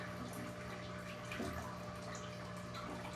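Water running and sloshing steadily while a fish tank is cleaned, a continuous low wash of flow with a faint hum underneath, heard up close and alone.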